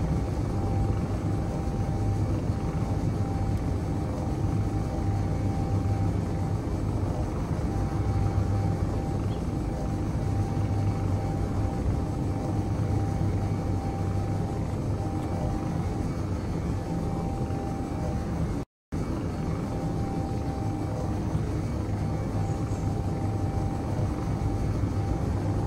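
A flying ship in the Space Engineers game gives off a steady, loud helicopter-like rotor drone that runs continuously with a brief cut near the end.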